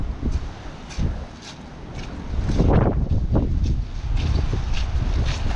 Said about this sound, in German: Ich stehe im Windschatten vom Alpa und Maike kämpft sich noch gegen den Wind und gegen den Regen.